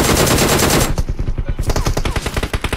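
Rapid automatic gunfire in the battle royale game BGMI rattles out in a dense burst, then continues as a string of sharp, evenly spaced shots close up.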